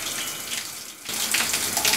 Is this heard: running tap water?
yes